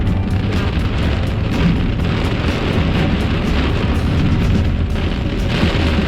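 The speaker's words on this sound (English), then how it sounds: "Is that thunder?" Thunder during a storm, heard from a truck driving on a highway: a dense, loud, sustained rumbling roar with a steady, unbroken texture throughout.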